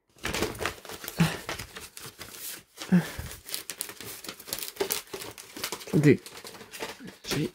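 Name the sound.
peeling a water-damaged stuck poster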